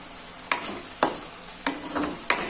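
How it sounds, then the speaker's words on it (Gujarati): Onions sautéing in oil are stirred in a pan, four distinct scrapes of the spoon against the pan over a faint steady sizzle, close and fairly quiet. "તે ડુંગળી છે એકદમ સરસ સતળાઈ ગઈ છે, તેલ છૂટું પડવા લાગ્યું છે"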